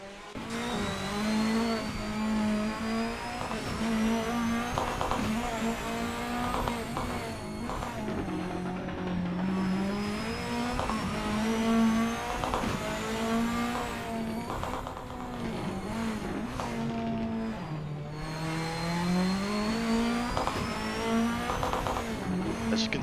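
A race car engine in a racing video game revs hard and climbs through gears on a flying lap, with repeated rising whines, shifts and braking dips, loud and continuous throughout.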